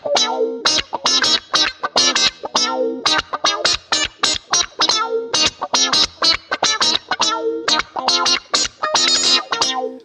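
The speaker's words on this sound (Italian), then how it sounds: "arrivata la GT1000, la multi-effetto Boss con cervello d'ultima generazione, simulazioni di amplificatori e casse con impulse response espandibili a piacimento" Boss GT1000 guitar multi-effects processor driving a heavily distorted electric guitar in a fast, choppy riff of tight staccato bursts with chorus and echo colouring, loud and upfront with no voices.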